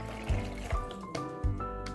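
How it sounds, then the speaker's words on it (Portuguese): Some 400 ml of water is poured into a Tupperware Multipla couscous maker, the splashing fill ringing with resonant tones and punctuated by a few soft thumps and gurgles, close and moderately loud. "Aqui tem 400 ml de água,"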